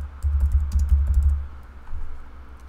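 Typing on a computer keyboard while drafting in CAD software, a loose run of soft clicks over a low steady hum, quick taps clustered early then thinning out.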